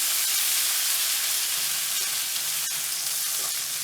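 Ginger sizzles and fries in a hot pan as it is stirred, a bright steady hiss with faint scraping of the spoon running through the short stretch, no voices over it.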